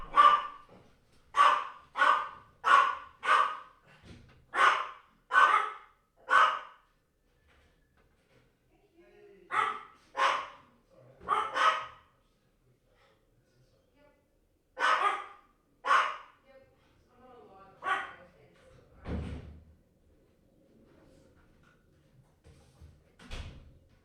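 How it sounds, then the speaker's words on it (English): Dogs bark repeatedly at a knock on the door, rapid clusters of sharp barks first, then scattered bursts with pauses, fairly close and loud, with a few faint thuds and rustles between. "I have to answer it because the dogs won't stop barking"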